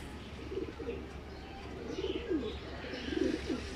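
Racing pigeons cooing outdoors, soft repeated coos close by against a steady background hum, with faint chirps higher up.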